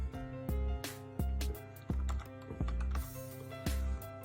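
Mechanical key presses on a Redragon K550 Yama gaming keyboard, a steady run of sharp, close clacks with a few heavier thumps between them, loud and alone with no voices.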